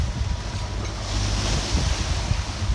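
Waves slapping against a sailboat beating close-hauled into a 9–10 knot wind among the Dodecanese islands, a continuous rushing wash with steady wind noise on the microphone, no voices.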